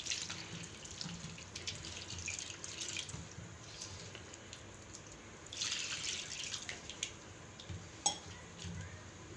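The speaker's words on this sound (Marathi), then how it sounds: "आता ह्याच्यामध्ये मी पाणी घालते।" Water poured into a pan of hand-mashed boiled potatoes while making potato bhaji for a puri bhaji breakfast, a steady close splashing trickle with a few brighter spurts and no voices.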